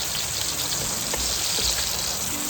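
Chopped onion sizzles in a hot pan while being sautéed for ginisang papaya, a steady crackling hiss close by with light popping throughout and no talking.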